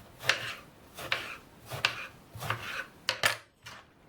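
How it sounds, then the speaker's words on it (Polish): A knife chops eggplants and zucchini on a board, about seven sharp, close cuts in an uneven rhythm with short pauses between them. "I teraz biorę się za krojenie tych bakłażanów i cukinii."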